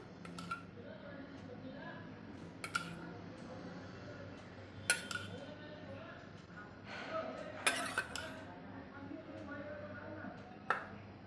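Flour and ghee being worked together in a bowl with a spoon for aloo puff pastry dough, giving soft scraping and scattered sharp clinks of spoon on bowl against a faint background hum.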